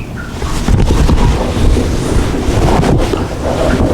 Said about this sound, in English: I'm going to turn the air all the way off and just use pump pressure.